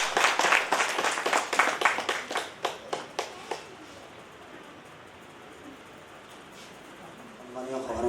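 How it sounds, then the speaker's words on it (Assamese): An audience claps at an Assamese award ceremony, a brisk burst of applause that fades out after a few seconds into a quiet room before a voice begins speaking at the end. "এটা জোৰদাৰ হাত চাপৰি দিব সকলোৱে।"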